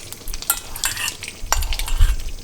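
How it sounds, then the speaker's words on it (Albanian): Butter frying and sizzling in a pan as it is stirred for traditional Dibra paçe, a close, loud crackling sizzle broken by scraping stirs. "e shkrimi gjalpën edhe e skuqni"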